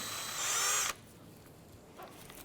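A power tool runs in a short high whirring burst while threading bolts into the transmission oil pan of a 2006-2013 Chevrolet Impala, then stops, leaving quiet room sound.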